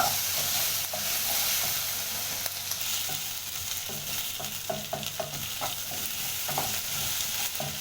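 Beef stew with onions and peanut butter being stirred in a pot, a steady sizzle and simmer under repeated scraping spoon strokes, close and continuous with no talk.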